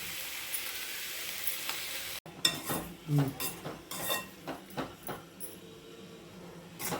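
Tomatoes sauté in a hot pan for chutney while a ladle mashes them, giving a soft sizzle under repeated scraping and clinking strokes of the ladle against the pan.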